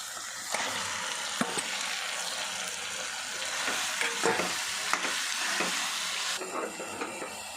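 Marinated chicken is stirred into a bubbling tomato curry in a pan, with repeated scraping strokes of a spoon over a steady frying sizzle, close up with no voices.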